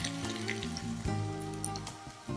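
Fried paneer cubes dropped into a hot pan for Schezwan paneer, setting off a steady close sizzle and frying crackle with a few soft clatters as the pieces land and shift.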